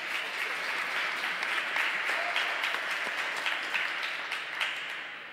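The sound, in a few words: applause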